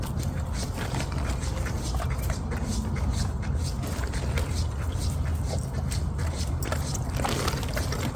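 Adult dogs and new puppies whimper and whine around feeding time, the sounds overlapping with faint trickling liquid and steady background noise.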